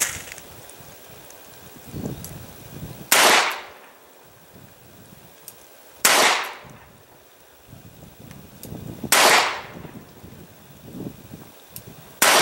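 Three sharp .45 ACP pistol shots fired with small-primer cases, spaced about three seconds apart, each a loud close crack trailing off under steady wind noise.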